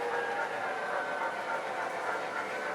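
A steady, broad rumble and hiss from a heritage train once run at Edaville, now displayed in New Hampshire, holds at an even level throughout with no voices.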